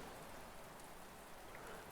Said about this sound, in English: Waiting in the rain.